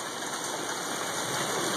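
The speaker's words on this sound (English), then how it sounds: "there's ice falling from the sky" A dense, steady patter of hail coming down during a summer storm in Queen Creek, Arizona, a continuous hiss with no pauses and no voices, fairly loud and close.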